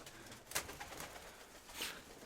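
Pigeons sit nearby and give soft, low coos among faint rustling and a few sharp clicks, quiet and close with no talking.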